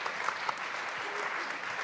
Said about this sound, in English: Can we have a wonderful round of applause for our speakers and our panel?